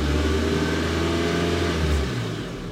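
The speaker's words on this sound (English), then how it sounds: "let's hit the accelerator again" A car engine revs hard as the accelerator is pressed, a loud, steady mid-pitched roar that holds for about two seconds before dropping away as the throttle is released.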